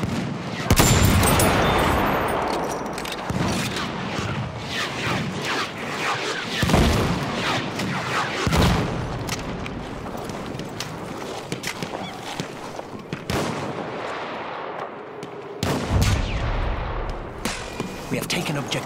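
Machine gun and rifle fire crackle in dense bursts across a Battlefield 1 battle, mixed with heavy booms and rumbling explosions, with in-game voices calling out now and then.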